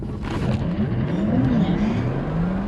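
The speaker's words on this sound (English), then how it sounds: "It'll tell you launch is ready. Let go." A Porsche Taycan electric car pulls away hard under launch control, a steady loud whine rising in pitch throughout with no break.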